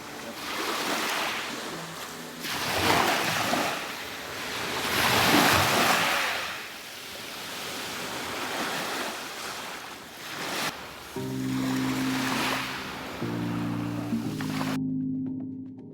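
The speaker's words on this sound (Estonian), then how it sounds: "Ja siis ma tahtsin teile jäädvustada seda ülimõnusat mere sahinat kivikeste vahel." Sea waves wash and hiss over pebbles on a Montenegro beach, swelling and receding in slow surges with wind buffeting the microphone, and a steady tone rising near the end.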